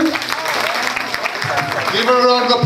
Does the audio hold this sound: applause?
yes